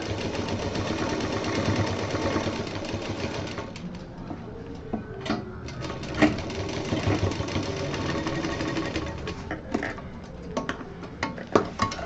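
Sewing machine stitching the sides of a handmade fabric cosmetic box, a steady mechanical whirring hum running nearly throughout with brief knocks and clicks over it, close and fairly loud.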